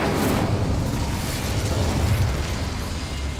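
In Hogwarts Legacy, the Incendio fire spell is cast and lets out a sustained, heavy whoosh of flame with a deep rumbling roar that stays loud and dense throughout.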